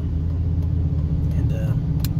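An antique Ford F600 truck engine runs roughly while labouring uphill, a steady loud low rumble throughout with a faint voice underneath.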